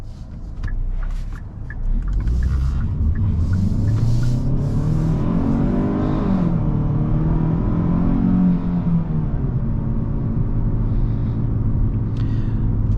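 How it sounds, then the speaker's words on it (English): A 2023 Hyundai Sonata accelerates hard in sport mode, its engine rumbling and rising steadily in pitch through a gear, then settling into a loud, sustained drone from inside the cabin. "Let's go ahead and do an acceleration right here. I'm gonna go ahead and have the car in sport mode."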